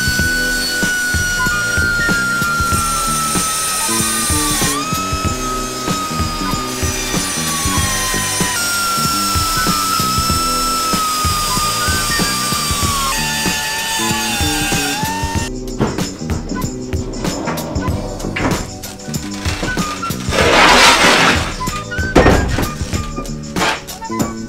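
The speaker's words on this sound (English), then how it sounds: "Now it's time to get the die grinder out and make some nice grooves in here." A die grinder cuts deep grooves along cracks in a turbo manifold ahead of welding, a loud continuous whine that shifts pitch as the load changes, with harsher bursts of grinding near the end.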